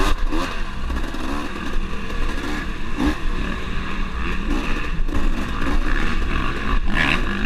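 Dirt bike engine roaring steadily at close range on a wooded trail during an amateur off-road race, loud and continuous, with shifting pitch as the rider opens the throttle.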